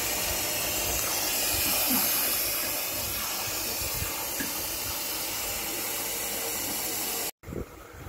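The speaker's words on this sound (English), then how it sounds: "the steam valve is also stuck open" A stuck-open steam valve on a live steam locomotive hisses loudly and steadily, a broad roar that holds almost unbroken and cuts out for an instant near the end.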